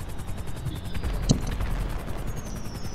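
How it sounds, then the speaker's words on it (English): Fireworks fired in a video game give a single sharp burst partway through, set against a constant noisy wash of game sound. "Start shooting fireworks!"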